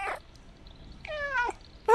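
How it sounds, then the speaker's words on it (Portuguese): A cat in the video game Stray meows: a clear, drawn-out, falling meow in the middle, with shorter meow fragments at the start and end over a quiet background. "Que bonitinho o miadinho que ele faz."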